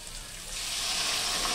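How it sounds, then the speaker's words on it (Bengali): Cooked chana dal poured into a pan of fried vegetables, a steady rising hiss and splash of liquid hitting hot oil, close and alone. "যে ডালটা সিদ্ধ করে রেখেছিলাম, এবারে ডালটা ও সবজির মধ্যে ঢেলে দেবো।"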